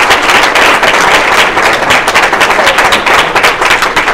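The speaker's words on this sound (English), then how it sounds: "How about a great round of applause for all of our" Sustained loud applause from an audience for a group of presenters, a dense steady wash of many hands clapping close by with no talk over it.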